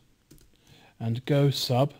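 Computer keyboard typing while entering DarkBASIC Professional code, a few soft, quick clicks near the start before a voice speaks over the rest.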